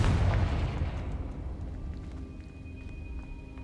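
A Confringo fire spell explodes in the Hogwarts Legacy video game, a loud burst at the start that rumbles and decays over a few seconds into a quieter low hum, with no talking.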